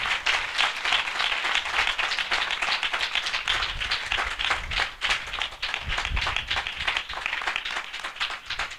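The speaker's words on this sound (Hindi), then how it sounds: "हम जोरदार ताली से उनका स्वागत करें।" An audience at a Hindi-language church worship assembly breaks into loud, sustained applause, dense rapid clapping filling the room steadily for several seconds with no voices over it.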